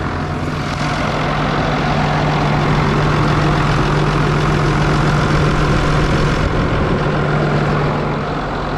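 Engine of a Freightliner Thomas Built school bus with about 3,000 miles running at idle, a loud, steady low drone with a constant hum underneath and no talking.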